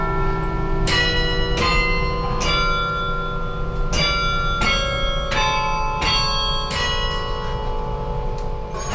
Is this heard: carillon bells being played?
yes